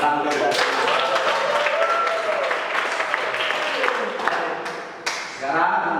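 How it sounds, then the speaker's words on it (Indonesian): A room of seated participants in a teacher-training class claps hands together, a dense, lively patter of applause filling the space, with a brief dip near the end before it picks up again. "Oke, coba tepuk tangan kita."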